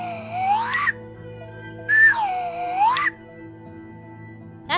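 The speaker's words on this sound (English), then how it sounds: "That's the wooden slide whistle." A wooden slide whistle plays two long sweeping glides, each swooping down and back up in pitch, loud and close with a short gap between them, alone without speech.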